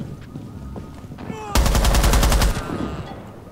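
Automatic gunfire bursts loudly in a tactical shooter game, a rapid, evenly spaced run of shots lasting about a second over quieter background game noise.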